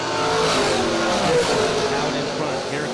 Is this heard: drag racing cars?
yes